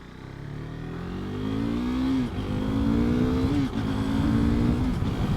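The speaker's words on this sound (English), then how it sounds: "Already I can tell this is a bigger engine of the low CC sport bikes." A 2019 KTM RC 390 sport bike engine accelerating through gears, a rising buzzy drone that climbs, dips briefly at two shifts and climbs again, loud and close.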